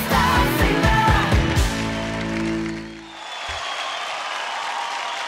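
On a televised children's singing competition stage, loud music with strong sustained tones fades out. A broad wash of studio audience applause follows and continues evenly to the end, with no talk.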